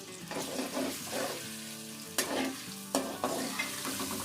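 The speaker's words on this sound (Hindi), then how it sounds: "ये देखें लहसुन और जीरा फ्राई हो गया है" Faint, steady sizzle of garlic and cumin frying in hot oil, with occasional scraping stirs and clinks of a utensil in the pan.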